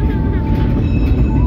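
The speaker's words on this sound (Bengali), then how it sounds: "ট্রেন চলছে" A moving train on a long-distance rail journey from Howrah to Jagdalpur, heard from inside the carriage as a steady, loud low rumble with a faint high tonal whine, continuous throughout.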